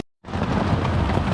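Heavy rain drumming on a tent, a loud dense roar that starts abruptly after a brief silence and stays close and constant.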